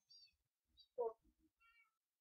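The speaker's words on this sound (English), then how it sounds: "I got two Siamese kitty cats now." Two Siamese cats in the Minecraft video game give short, high game-style meows, one louder and closer in the middle, with faint sound effects between them.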